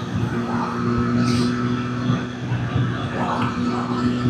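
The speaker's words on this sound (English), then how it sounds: "Third gear, acrophobic pipe, spark headers, baffle installed." Triumph 765RS motorcycle in third gear, fitted with an Akrapovic exhaust, spark headers and the baffle installed, running steadily close by with a continuous engine drone and mild rises in revs, under faint wind.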